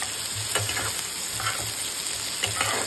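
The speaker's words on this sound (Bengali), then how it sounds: "পেঁয়াজটা ভাজা ভাজা হলে রসুনটা দিয়ে দিতে হবে" Onions and garlic fry in a pan with a steady, close hiss, broken by a few brief stirring scrapes.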